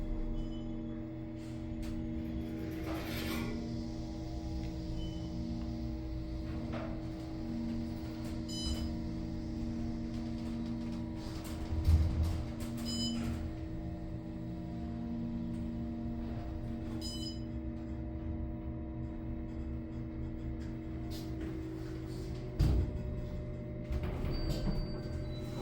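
An Otis Series 5 hydraulic elevator at a Hampton Inn and Suites in Sarasota runs with a steady low hum, accompanied by occasional thumps and mechanical clicks. No one speaks.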